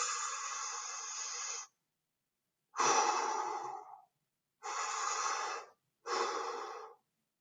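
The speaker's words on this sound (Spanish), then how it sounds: "Entonces, respiro." A person breathes slowly in and out, giving four separate airy breaths spaced by short silences, each close and clear with no talking.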